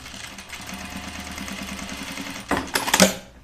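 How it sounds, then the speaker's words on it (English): A sewing machine stitches a reversible button-up shirt from the flannel side, a soft rapid rhythmic chatter that swells into louder bursts of motor noise near the end. "I'm gonna sew it from the flannel side and see."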